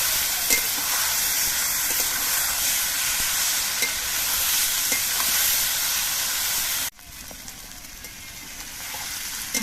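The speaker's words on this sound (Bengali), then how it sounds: "এবার মশলা দিয়ে আবার কিছুক্ষণ কষিয়ে নিতে হবে" Vegetables sautéing in a pan with spices, cumin powder and a splash of water, a dense continuous hiss with faint stirring, briefly cutting off and resuming slightly softer.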